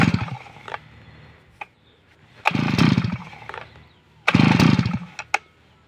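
A new cutting machine engine sputters to life in short bursts, revving briefly twice with a rough buzzing roar between quieter idle stretches and a few sharp clicks, close by, no talking.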